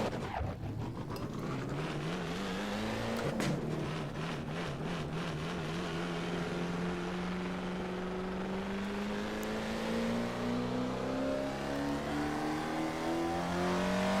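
An Alfa Romeo 33 Stradale with a 2-litre V8 in Assetto Corsa revs hard toward 9,000 rpm, a loud, screaming engine note rising and falling through the gears and then holding high.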